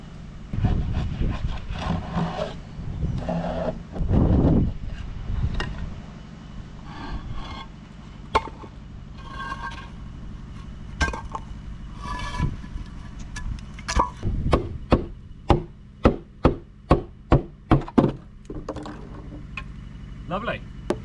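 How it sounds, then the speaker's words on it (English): A wooden arch former slides out from beneath a freshly built brick arch of a pizza oven, with scraping and knocking of timber against brick, ending in a series of sharp close taps; someone talks over the early part. "Right, so we're going to take this arch down now."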